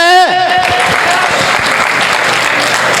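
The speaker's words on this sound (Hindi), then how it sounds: "तो सबसे पहले मैं चाहूँगा कि पवन सर के लिए एक जोरदार ताली हो जाए।" An audience at an anniversary achiever celebration breaks into loud, sustained applause for Pawan sir, a dense wash of clapping that holds steady after a short rising tone at the start.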